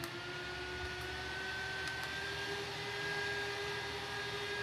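Fans of a Covell 32V cooling fan vest run on a high setting, giving a quiet, steady electric whine and hum that never changes, with no voices.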